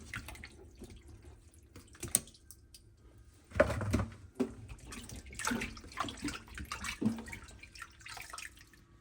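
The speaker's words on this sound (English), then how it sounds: "let's get the berries washed and we'll make some jam" Fresh strawberries for freezer jam get rinsed under running tap water in a kitchen sink, with splashing bursts, trickling flow and occasional drips, moderately close and fairly quiet.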